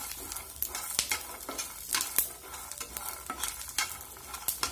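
Peanuts roasting in a pan, stirred steadily with a spatula, giving repeated scraping strokes and light rattling clicks over a soft, continuous sizzle, close up with no voices.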